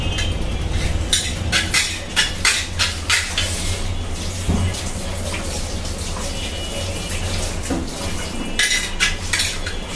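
A metal cooking pot lid clatters on a new stove, with repeated close, bright clinks and rattles over a steady background hiss and faint running water.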